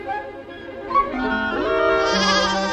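A sheep bleats in a cartoon lesson about farm and wild animals. The bleating is a wavering, drawn-out call that rises in pitch over about three seconds and is heard alone, with a light musical backing.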